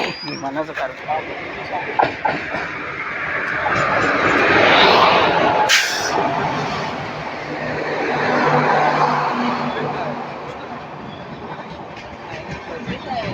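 A Diva–Sawantwadi passenger train rolls into a station in monsoon rain, a broad rumbling roar swelling and fading twice, with people chatting close by throughout.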